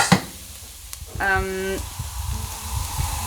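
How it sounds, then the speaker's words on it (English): Unwashed rice toasting with golden onions in a pan over a medium-high flame for a vegan mushroom risotto, a soft close sizzle with scraping stir strokes, while a voice talks over it. "we always have to stir it, and we keep on stirring it until the rice becomes golden"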